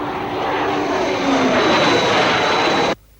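A propeller airplane from a 1964 television series drones loudly and steadily while manoeuvring in flight, a close, constant engine roar that cuts off suddenly near the end.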